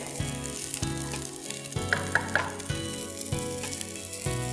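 Garlic sautéing with oregano in a pan gives off a steady, close sizzle, with a few brief stirring clicks, set under rhythmic background music.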